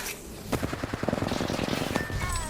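Rapid automatic gunfire in the Apex Legends battle royale game rattles in a dense, steady burst of close, loud shots over busy in-game background noise.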